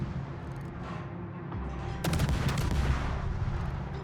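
Ship guns fire in World of Warships around a Tier 10 Italian destroyer, Attilio Regolo, a sudden loud salvo cracking after a quieter stretch, then a rumbling roll of shots and booms.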